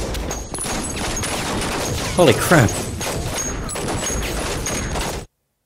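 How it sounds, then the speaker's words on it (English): Gunfire in the video game Saints Row 2 crackles amid a noisy, busy game scene. A couple of sharper bursts stand out midway, and a player's voice exclaims over it. "Jesus, gunshots."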